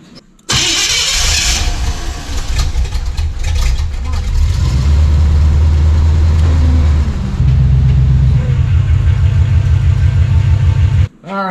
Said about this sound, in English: You want to fire up the wrecker and turn the pump on?